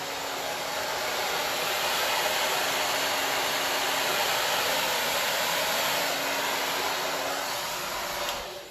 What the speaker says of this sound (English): See the color of my blow dryer?